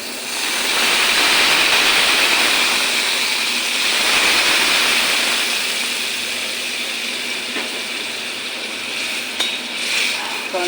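Boiled chana dal is poured from a small pot into a larger pot, making a loud, rushing wet pour for several seconds that then fades to quieter stirring and a few faint clinks.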